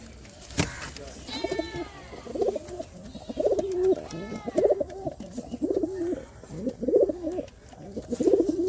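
A breeding pair of pigeons, the hen close to laying, coos together at close range in a steady run of low, throaty, rolling calls, with a brief flutter near the start.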